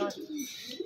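A pigeon cooing in a pigeon loft, one brief, fairly close coo lasting under a second.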